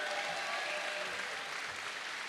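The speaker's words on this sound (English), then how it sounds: "Big round of applause for Starlett" Audience applause at a renewable energy summit presentation as a speaker is welcomed: a steady, fairly soft and even roar of many hands clapping that sustains without a break.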